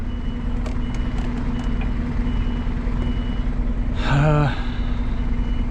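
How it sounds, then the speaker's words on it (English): A Scania truck idles in a yard with a steady engine drone, then a single short burst of loud reversing beeps cuts in near the end, close by and with no talking. "the Scania has just arrived in the yard"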